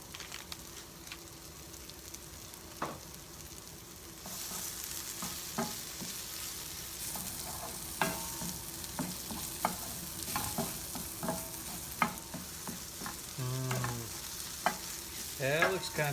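Apples frying in butter in a pan, a steady soft sizzle with clacks and scrapes of stirring, growing a little louder partway through, close and fairly quiet.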